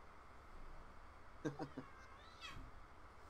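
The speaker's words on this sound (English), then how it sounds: "Hey, look, my cats are fighting." House cats fighting off-mic in a home during a tabletop game session, a few quick meows and yowls around the middle, faint and brief against a quiet room hiss.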